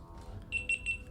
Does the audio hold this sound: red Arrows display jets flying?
no